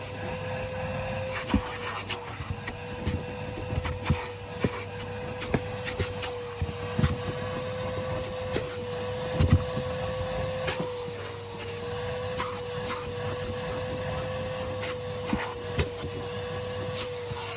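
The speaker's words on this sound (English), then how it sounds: "so we'll get on to hoovering it" A vacuum cleaner runs steadily and close by with a constant motor whine, punctuated by occasional bumps and knocks as the nozzle works over a Mercedes-Benz car's carpet.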